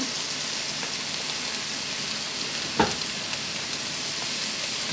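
Meat stir-fries in a hot pan at home for a spicy jjamppong made with jjolmyeon noodles, giving a loud, steady sizzle with a brief clatter of stirring partway through.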